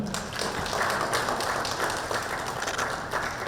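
An audience clapping at a signing ceremony at State House, Nairobi, a continuous loud wash of applause from many hands that holds steady throughout the short stretch, with no talking.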